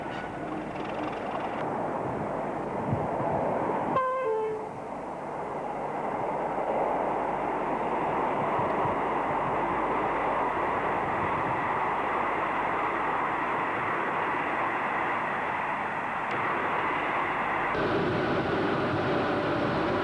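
Electric locomotive 86030 passes at Willesden hauling a train in late-1970s Britain, a sustained rumbling roar of wheels and motors, fairly close and steady, with a brief high warning tone early on.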